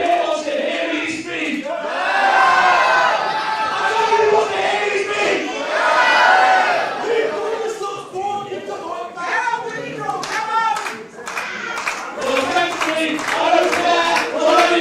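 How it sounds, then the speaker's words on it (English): Crowd at a darts match roaring, chanting and clapping loudly in waves, a dense mass of voices filling the venue with brief dips between surges. "the crowd chips in with their opinions there"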